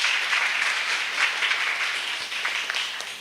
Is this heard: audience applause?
yes